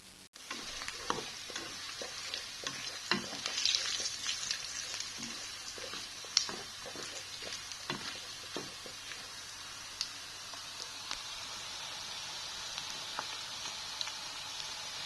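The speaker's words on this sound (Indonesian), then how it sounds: "Aku tambahin tomat. Digoreng lagi." Meat and tomato fry in a pan with a steady sizzle and crackle, broken by scattered utensil scrapes and pops throughout.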